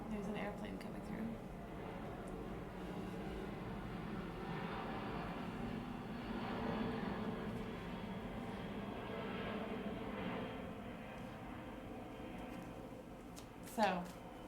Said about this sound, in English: There's an airplane coming through.